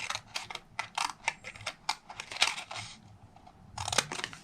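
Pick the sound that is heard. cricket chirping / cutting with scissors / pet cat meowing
cutting with scissors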